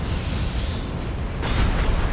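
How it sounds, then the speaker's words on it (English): Explosions in the mech combat video game Armored Core VI, a dense rumbling blast texture with a sharper burst halfway through, loud and sustained, no talk. "Nearly forgot your fireworks."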